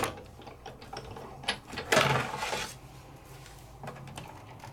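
A Sizzix die-cutting machine rolls a 3D embossing folder and cut plate through its platform, giving a brief burst of grinding, crunching mechanical pressure in the middle, with quieter clicks and handling before and after.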